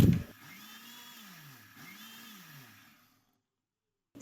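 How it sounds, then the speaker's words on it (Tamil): A mixer grinder whirs as it blends eggs and oil into mayonnaise, its motor pitch rising and falling in waves for a few seconds before cutting off into silence. "நம்ம ஆயில் ஆட் பண்ணி அரைக்கும் பொழுது இடையில ஒரு 10 செகண்ட் 5 செகண்ட் அந்த மாதிரி அரைச்சாலே போதும்"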